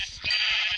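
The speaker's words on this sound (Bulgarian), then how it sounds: "Има още една овца." A single short, close sheep bleat from a Minecraft sheep, clear and alone.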